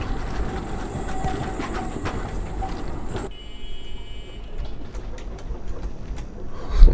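A tram ride in the video game Abiotic Factor gives a rolling mechanical rumble that drops to a quieter hum partway through, with faint tonal whines and a soft thump at the end.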